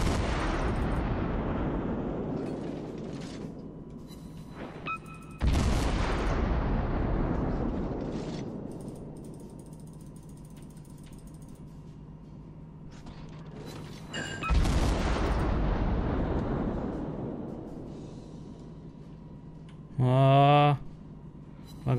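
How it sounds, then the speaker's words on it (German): Heavy naval guns boom out from a warship in World of Warships, three big blasts spaced several seconds apart, each rolling into a long fading rumble, with a short tonal game alert near the end. "Und ich schieße auch jetzt ein bisschen drüber."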